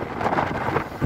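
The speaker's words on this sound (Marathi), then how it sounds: "आणि खूप वारा पण लागतोय" Strong wind buffets the microphone while cycling up a single-lane mountain road toward Srinagar in Jammu and Kashmir, a steady broadband roar with gusty swells and no voices.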